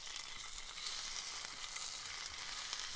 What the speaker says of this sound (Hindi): यहाँ मैंने लिया है पैन, जिसमें हम ऐड करेंगे 2 टेबलस्पून ऑयल। इसमें डालेंगे चॉप स्प्रिंग अनियंस